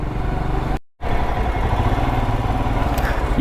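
A Royal Enfield Himalayan motorcycle engine putters steadily nearby with a rough, low drone, broken by a brief silent gap before continuing.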